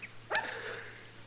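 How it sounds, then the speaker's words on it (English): A small dog in a street gives a single short, playful bark at a distance, then falls quiet. "look at that little old dog out in the street there. He sure is playful"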